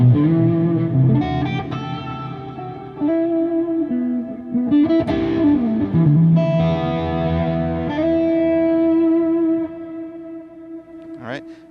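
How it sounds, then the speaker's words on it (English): Electric guitar played through a Mesa Mark IV on Channel 3 with reverb and delay, sustained distorted notes and bends ringing out with echoing tails, loud and close. "Just step on the delay, and we have a bit more of a reverb delay sound."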